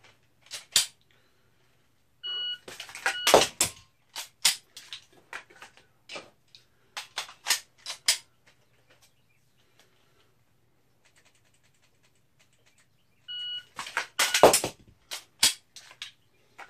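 A shot timer beeps twice, widely spaced, during dry-fire handgun practice; each short electronic tone is followed by sharp trigger clicks, magazine handling and other gear clatter, with no speech.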